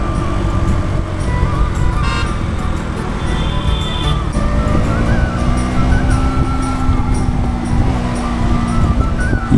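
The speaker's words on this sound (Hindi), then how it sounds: "बाइक चल रही है" A motorcycle ridden solo along the road from Trikut to Basukinath Dham, Deoghar to Dumka in Jharkhand, with a steady engine drone and wind rush throughout, a brief horn toot and passing traffic.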